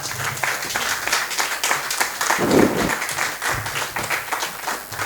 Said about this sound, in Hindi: एक बार खड़े होकर के जोरदार तालियां आप लोग बजाएं।